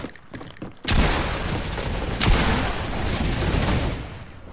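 Video game gunfire, a heavy onset of shots followed by sustained rapid firing and a second sharp blast partway through, loud and continuous throughout.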